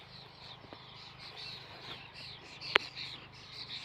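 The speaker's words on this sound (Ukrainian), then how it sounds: "Як пташки співають." Faint bird chirps come and go over a soft outdoor hum with crickets, plus one sharp click partway through.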